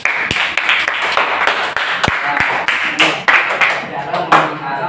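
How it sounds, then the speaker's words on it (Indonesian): A classroom group of students receives a burst of clapping from their classmates, sharp hand claps crowding together in quick, uneven rhythm, loud and close, with voices mixed in. "tepuk tangan dulu untuk kelompok."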